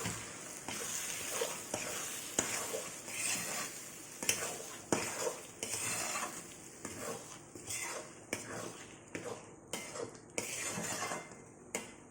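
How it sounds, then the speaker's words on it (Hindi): Corn chivda being stirred in a pan over heat, a repeated rhythm of dry rustling scrapes and spoon clinks against the metal every second or so, close and fairly quiet with no talking. "इसे हम मिक्स कर देंगे।"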